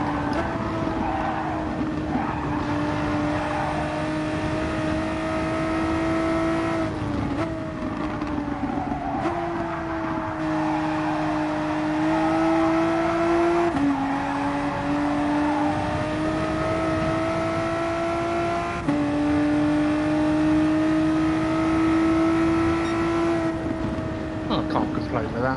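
Race car engine in a racing video game, held at a steady mid-pitch drone through corners, with brief gear changes and lifts of the throttle repeating over about twenty-five seconds while someone talks over it.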